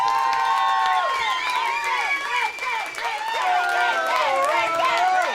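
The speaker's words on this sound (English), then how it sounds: "please give a big round of applause for Rick Parfitt" A crowd at Harrods cheers and whoops for Rick Parfitt, with shrill overlapping shouts and whistles carrying over a steady wash of applause, loud and close throughout.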